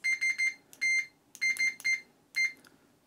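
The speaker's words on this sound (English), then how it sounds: "very loud buzzer" Fluke 87V multimeter continuity buzzer beeping in short, shrill, loud bursts, some quick triple pulses and some longer single tones, with brief gaps between them and quiet background.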